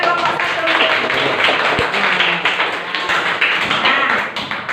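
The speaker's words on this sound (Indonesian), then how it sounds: "tepuk tangannya dulu buat kelompok 1" Students in a classroom clap for a presenting group, a loud, steady patter of many hands sustained throughout with a few sharper individual claps standing out.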